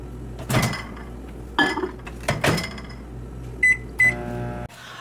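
Microwave oven running with a steady hum, heating canned soup; several clanks and clinks of dishes or cutlery inside, then a few sharp beeps before the hum cuts off abruptly.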